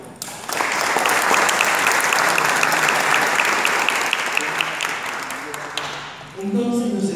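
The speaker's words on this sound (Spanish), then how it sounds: "a quien pido un fuerte aplauso" A recital audience of poetry listeners breaks into strong, sustained applause, a dense wash of clapping that swells and then fades, with a voice starting at the end.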